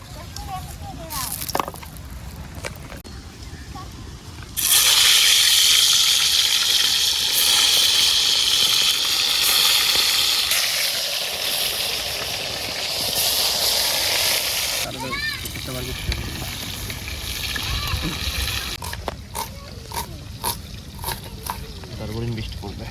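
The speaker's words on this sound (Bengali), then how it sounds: "তেল গরম হয়েছে বন্ধুরা মাছ এখানে লবণ হলুদ দিয়ে মাখিয়ে নিয়েছি" Fish coated in salt and turmeric dropped into hot oil, a loud sustained sizzle and spatter that later eases, with people talking nearby before and after the frying.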